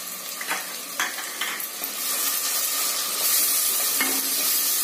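Biryani masala with red chili powder and garam masala frying in a pan for street-food style matka biryani, a steady close sizzle that grows louder midway, with a few scraping stirs of a spoon early on.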